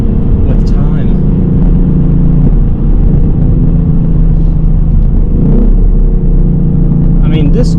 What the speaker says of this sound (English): Just listen to those rev matches.